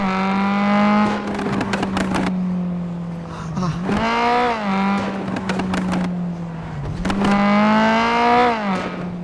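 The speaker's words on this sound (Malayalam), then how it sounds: "എന്താണ് വണ്ടി ഭയങ്കര കരകര സൗണ്ട്." A vehicle engine runs loud and close, repeatedly revving up and dropping back with a harsh, rough edge to its drone across the whole stretch.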